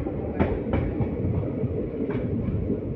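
The Simhadri Express pulls away from Anaparthi station, a heavy rumbling roll with repeated wheel clacks over rail joints, loud and close from onboard.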